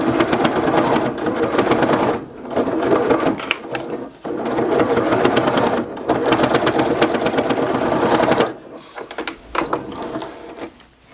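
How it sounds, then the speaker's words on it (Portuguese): A sewing machine stitches the corners of a fabric toiletry bag in loud, rapid mechanical bursts, running in several runs of a few seconds each with short pauses between them. "a gente faz uma dobrinha e faz outra dobrinha. Aí fica assim e passamos a costurinha aqui pra finalizar"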